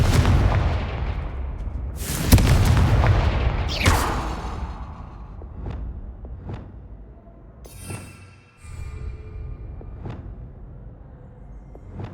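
The Confringo blasting spell in the Hogwarts Legacy game fires in loud booming blasts, two heavy explosions up front and then a string of sharper impacts spaced a second or so apart, with no one talking.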